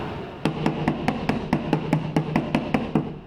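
Hammer taps knock asphalt paneling loose from the metal body of a 1965 Pontiac Catalina Safari, a dozen evenly spaced ringing knocks, close and fairly loud.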